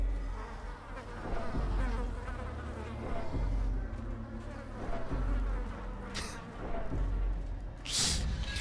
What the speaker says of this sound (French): C'est sympathique les moustiques en tout cas.